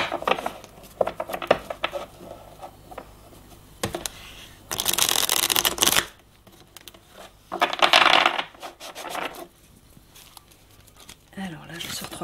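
Tarot cards being shuffled and drawn, with two distinct bursts of riffling and a scatter of light card snaps and taps in between, heard close up while a person speaks softly over them.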